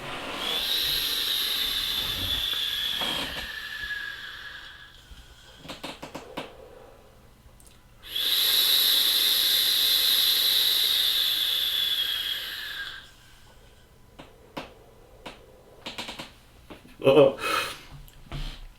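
An iStick 50W mod at 50 watts with a 0.5-ohm sub-ohm coil and open airflow draws two long, steady airy hisses with a faint whistle, followed by someone talking and exhaling.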